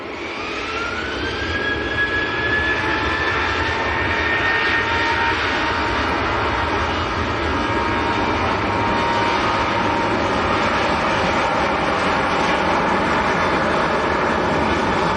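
Ryanair airliner bound for Belfast at Manchester Airport, its jet engines roaring loud and steady for the whole stretch with a slowly shifting whine, no voices over it.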